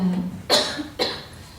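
A woman coughs at an Easter Vigil service while receiving water, two sharp close coughs about half a second apart, with faint murmuring before them.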